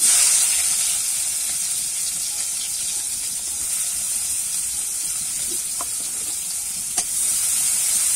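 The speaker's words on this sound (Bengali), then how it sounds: "ওই তেলেতেই কিন্তু আমি কুচিয়ে রাখা পেঁয়াজটা দিয়ে দেবো" Chopped onion fries in hot oil in a pan for a raw jackfruit chop recipe, a steady close hiss of sizzling with a faint clink or two and no talking.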